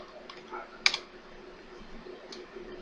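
Typing on a computer keyboard while installing Windows ME in VirtualBox, a few soft key clicks with one sharper tap, quiet and close, in an otherwise still room.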